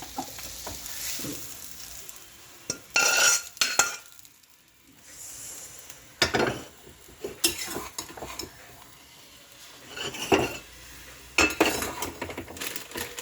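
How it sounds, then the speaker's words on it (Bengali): Vegetables being stirred into a pot of semolina pulao, with scraping spoon-on-metal strokes and clinks in bursts, plus a soft sizzle underneath, close and fairly loud. "এবারে আমি সবজিটা মিশিয়ে দিচ্ছি।"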